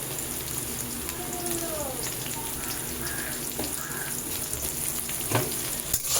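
Garlic and slit green chilies frying in hot oil in a home kitchen, a steady soft sizzle with faint crackles and a few spoon taps, a voice briefly heard in the background.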